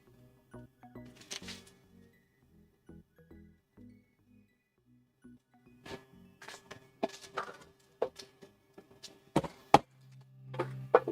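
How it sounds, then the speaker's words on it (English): Scattered clicks, taps and plastic knocks as lids are pushed back onto small paint cups, sparse at first then busier. "You hear me pushing the lids back on through the microphone."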